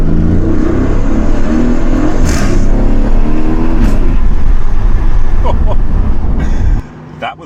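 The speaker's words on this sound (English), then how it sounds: "So we'll drop down to second gear." A car's engine roars loudly and steadily as it drops into second gear in a small tunnel with the windows down, then cuts off sharply near the end.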